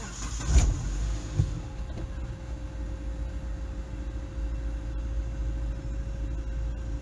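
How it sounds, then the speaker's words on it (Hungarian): An Opel petrol engine with a misfire fault cranks and starts, a brief burst of low rumble, then settles into a steady, continuous idle hum close by, with no talking. "Mindjárt megnézzük, hogy hogyan jár a gépünk."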